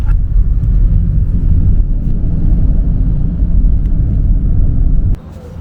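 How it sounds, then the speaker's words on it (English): A Grab car ride heading to Melaka Sentral gives a loud, steady low rumble of road and engine noise from inside the cabin, which drops off abruptly near the end. "I hail an online Grab car, which brings me to Melaka Sentral comfortably, quickly"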